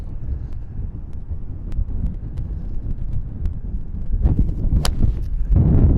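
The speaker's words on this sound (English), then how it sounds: "Feels like the wind just picked up." Strong gusts buffet a microphone on a windy golf course, a low rumbling roar that swells and fades, growing heavier toward the end with a few faint knocks.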